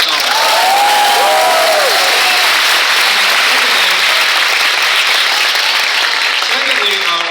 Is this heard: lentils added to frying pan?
no